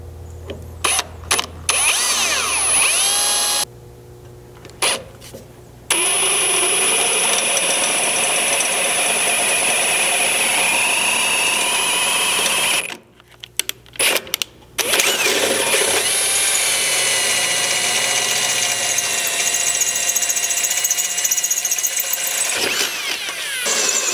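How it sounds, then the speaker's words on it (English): Power drill boring holes through the gas tank skid plate of a Chevy Colorado, loud whining bursts that start and stop several times over a steady engine-like hum, with brief pauses between holes. "we'll get all three of these drilled"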